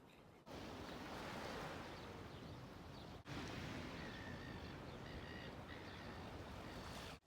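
Ocean surf rolling onto a cold beach, a steady broad wash of breaking waves with wind buffeting the microphone, loud and continuous with brief dropouts, no voices.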